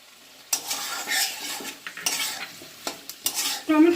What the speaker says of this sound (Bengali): এখন এর মধ্যে কেটে রাখা টমেটোগুলো দিয়ে দিচ্ছি